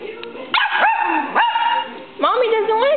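A dog indoors at home lets out three or so sharp, rising yelping barks with whiny tonal edges, close and fairly loud, separated by brief pauses.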